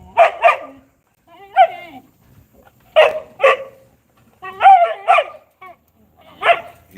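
Americane da Presa dogs bark in a cage, a close run of loud doubled barks with whiny yips and growly whimpers between them, in bursts separated by short quiet gaps.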